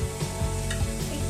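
Vegetables for a traditional Bengali shukto sizzle steadily in a pan as they are stirred, giving a continuous loud frying hiss with soft scraping strokes, close and without talking.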